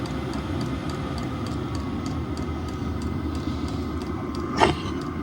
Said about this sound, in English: I can alter the fan speed and the pump speed just by turning that. You can hear it all both pick up together.